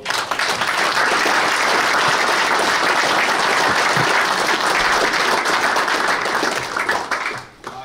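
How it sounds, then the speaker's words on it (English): Loud sustained applause from the audience at the final of a world billiards championship, dense clapping from a large crowd, steady for several seconds before tapering off at the end. "And could I ask a round of applause for all?"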